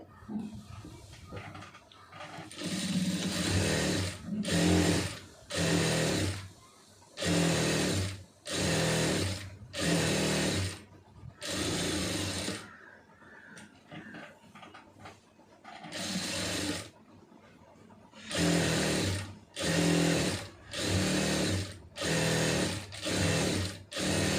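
An electric sewing machine stitching fabric for a pencil-fit garment runs in loud, close bursts of rapid whirring, separated by brief pauses between seams.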